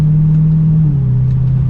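A 2022 Dodge Charger SRT Hellcat Widebody holds a loud, deep, steady exhaust drone up close, its low rumble dipping slightly in pitch partway through.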